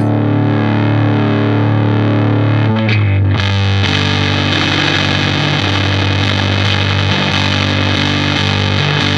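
Loud, heavily overdriven electric guitar chords, buzzy and saturated, with a brief pause before a thicker, more boosted distorted tone rings on steadily, rich in odd-order harmonics.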